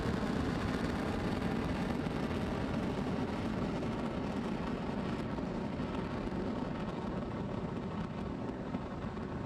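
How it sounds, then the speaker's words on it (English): A SpaceX Falcon 9 rocket lifting off from Space Launch Complex 40 at Cape Canaveral on the Bandwagon-3 mission, with a dense, steady, far-off broadband roar that holds unbroken throughout. "Ignition. Engines full power and liftoff."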